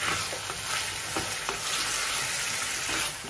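Egg tomato curry with turmeric cooking in a pan, giving a steady loud sizzle and bubbling hiss up close, with faint stirring knocks and no talking.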